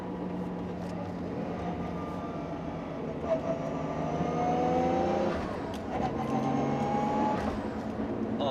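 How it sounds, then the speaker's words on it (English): Straight-cut gear transmission whine from a 1995 Nissan Skyline GT-R V-Spec with a 5-speed Nagawa Tech close-ratio gearbox, a steady engine drone topped by rising whining tones that climb through two gear pulls, heard from inside the car. "5-speed Nagawa Tech close ratio transmission with straight cut gears, which means you get that very cool, very distinct whine sound"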